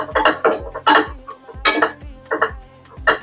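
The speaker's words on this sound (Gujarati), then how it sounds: "હવે એમાં આપણે જે પાટીને મૂકેલા સિંગદાણા છે એ નાખી દઈશું અને બધું હલાવી લઈશું" Metal spoon scraping and clinking against a pan as peanuts are mixed into sabudana khichdi, several sharp irregular clatters close by with no talking.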